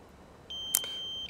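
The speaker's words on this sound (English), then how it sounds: "Sorry for the remote, this is a low battery warning." The remote controller of a DJI Mavic 2 Pro drone gives a low battery warning: a single steady electronic beep that holds for just under a second, close and clear against a quiet background, with a brief click near its start.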